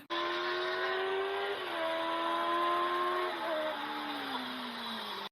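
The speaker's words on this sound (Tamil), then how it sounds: "என்ன ஏதோ பைக் வர்ற மாதிரி சவுண்ட் கேக்குதுல்ல" A motorbike engine hums steadily throughout, its pitch wavering and shifting as if the bike draws closer, a continuous near-loud drone with no voices.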